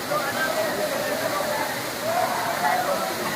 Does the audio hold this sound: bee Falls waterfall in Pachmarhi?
yes